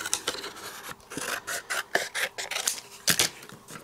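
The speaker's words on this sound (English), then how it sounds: "I'm going to trim this down a little bit" Paper is trimmed down with a sliding paper trimmer for card making, giving a series of short raspy scraping strokes, close and fairly quiet, in uneven rhythm.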